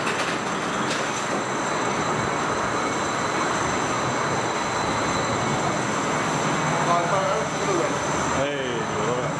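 An S&S 4D roller coaster train at Fuji-Q Highland rumbles backwards up its lift hill, a continuous loud mechanical roar with rattling wheels, with a voice briefly heard near the end.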